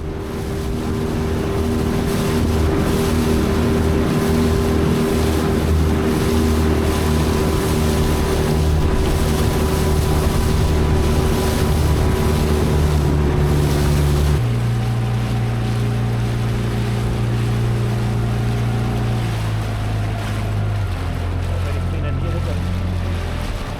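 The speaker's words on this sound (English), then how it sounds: "Instead we decide to have a dinghy ride into Halifax." A dinghy's outboard motor drones steadily across the water, loud and close, under wind and splashing waves, dropping in pitch twice as the throttle is eased back.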